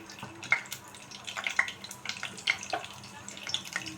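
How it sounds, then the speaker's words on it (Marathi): Mustard and cumin seeds crackle and pop in hot oil with scattered sharp snaps over a steady sizzle, close by and fairly quiet. "राई आणि जिरे तडकायला लागले"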